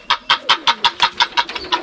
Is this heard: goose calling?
yes